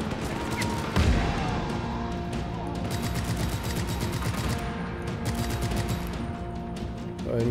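Rapid bursts of gunfire in the video game Just Cause 3 crackle continuously, with a heavier blast near the start and dense repeated shots throughout.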